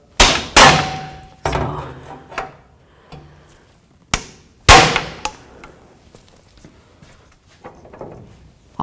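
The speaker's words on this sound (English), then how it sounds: "we're going to use our hammer, and we're going to try to knock the drive shaft out of the front differential" A hammer striking a pry bar to knock the drive shaft out of a Toyota 4Runner front differential: several loud, sharp metallic clangs at irregular intervals, each ringing briefly, close by with no talking.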